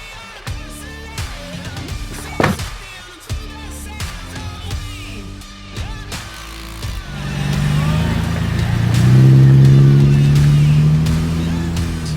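A Toyota 80 Series 4WD with a turbo Barra engine drives along, its engine droning and building to a louder, steady hum after a stretch of intermittent knocks and clunks at the start.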